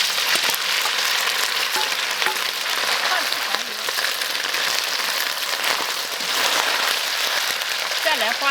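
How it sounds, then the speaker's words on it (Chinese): Beef frying in plenty of hot oil in a wok, cooked alongside water bamboo shoots, chili and Sichuan peppercorns; a dense, steady crackling sizzle that fills the whole stretch, with faint speech underneath. "肉下锅炒。"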